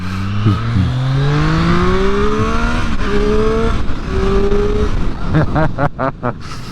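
A 2024 Triumph Street Triple R motorcycle accelerates away loudly and close by, its engine note climbing through several quick upshifts before fading, with brief sharp pops and wind noise toward the end.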